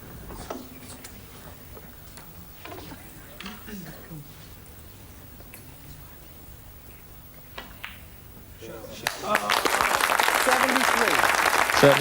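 A snooker crowd breaks into loud sustained applause for Ronnie O'Sullivan's break in his first match, rising suddenly after quieter stretches of ball clicks and commentary talk.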